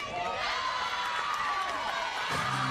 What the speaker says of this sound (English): You can hear the Northwestern crowd fired up.